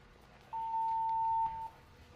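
An electronic scoring buzzer sounds during a fencing-style bout, one steady tone held for about a second over quiet room noise, with no voices.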